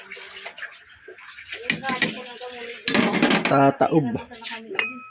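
Metal cooking pot and dishes clatter and clink close by in bursts, with running water from a tap in the background.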